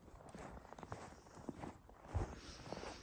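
Footsteps crunch along at a steady walking pace outdoors on a snowy winter day in Sweden as someone heads downhill, fairly faint against a soft background hiss.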